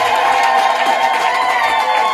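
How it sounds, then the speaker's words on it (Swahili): A church congregation claps and cheers loudly in a continuous, dense roar of applause and voices. The sound is steady and close and lasts throughout. "Shangilia Bwana Yesu kwa makofi. Makofi ya juu kwa Bwana."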